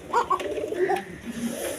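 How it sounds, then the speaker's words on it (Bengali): A male Andalusian-coloured bolder pigeon on a farm gives a couple of short close coos, soft throaty notes with small gaps, over faint background noise. "এখানে একটা সিঙ্গেল বোল্ডার নর কবুতর আছে দেখেন"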